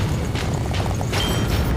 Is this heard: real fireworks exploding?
yes